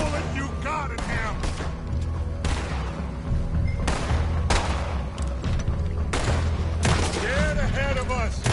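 Video game gunfire cracks in repeated bursts of sharp shots and booms, fairly loud and close, mixed with voices calling out during a PS4 firefight.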